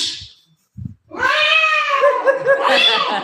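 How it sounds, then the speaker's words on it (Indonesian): Mating cats caterwaul: after a short gap and a faint thump, a loud, drawn-out, wavering yowl rises and sustains for about two seconds, close and harsh, with another brief cry at the very start. "Kucing kawin."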